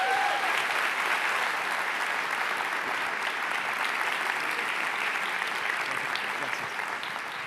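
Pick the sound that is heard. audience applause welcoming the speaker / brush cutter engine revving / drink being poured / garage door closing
audience applause welcoming the speaker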